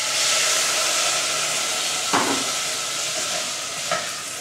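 White wine sizzles in a hot pan of risotto rice while it is stirred, a steady close hiss with two brief scraping stir sounds, no talking.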